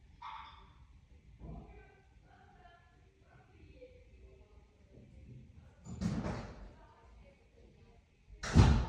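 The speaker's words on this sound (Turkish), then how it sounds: "Onlara kapıyı açalım o zaman." A door is opened indoors with a couple of knocking thumps and a heavy bang, while children's voices chatter quietly in between.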